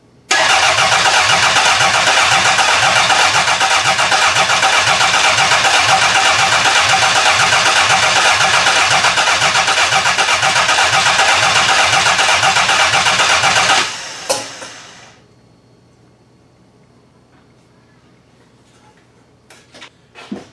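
A car engine cranks for about fourteen seconds in a fast, even rhythmic churn, loud and close, then stops abruptly without catching, leaving near silence with a few faint clicks.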